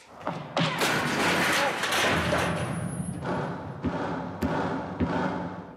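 Loud crash as a man on a talent show stage hits a row of folding chairs and slams to the floor, with sharp thuds and clatter over noisy crowd reaction throughout.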